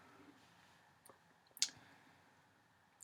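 A computer mouse gives a single sharp click against a quiet background, preceded by a couple of fainter clicks and followed by one more soft tick at the end.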